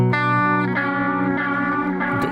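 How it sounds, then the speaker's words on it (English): A guitar chord rings through a Meris LVX delay pedal set to a cassette-style setting, with its modulated repeats swimming and decaying, and a second strum near the end. It plays alone and fairly loud. "the delayed repeats have got all the lovely modulation"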